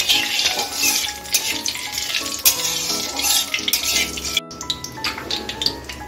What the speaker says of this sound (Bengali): কালো জিরাটা এক মিনিটের মতো ভেজে ভেজে নিচ্ছি।